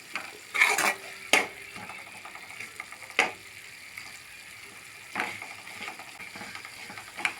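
Cluster beans and lentils for usili being stir-fried dry in a pan: a soft steady sizzle broken by several loud spatula scrapes and clanks at irregular intervals, close up and without talk.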